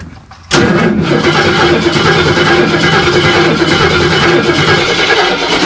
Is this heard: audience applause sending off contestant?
no